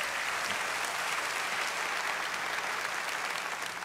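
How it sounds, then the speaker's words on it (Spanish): Church congregation applauding for the Lord during a sermon, a dense, steady wash of many hands clapping at once, loud and sustained throughout with no break. "Denle un buen aplauso al Señor si usted quiere"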